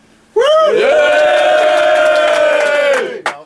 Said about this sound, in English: he deserves a wonderful round of applause for it